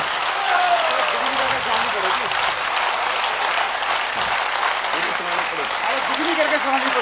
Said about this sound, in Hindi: इतनी तालियां बज गई